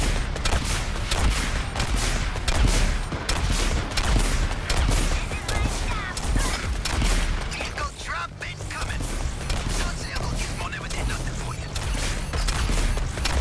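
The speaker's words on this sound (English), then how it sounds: "You're shooting me!" Sustained rapid gunfire and explosions in the action game Suicide Squad: Kill the Justice League, dense continuous bursts with players talking over them.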